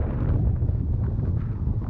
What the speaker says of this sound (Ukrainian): Чудова погода, але вітер в обличчя.